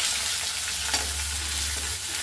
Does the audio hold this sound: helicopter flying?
no